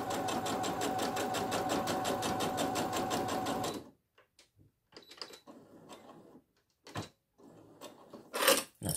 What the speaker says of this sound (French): surpiqûre au bord de mon tissu pour emprisonner ma couture et l'ouverture que j'ai faite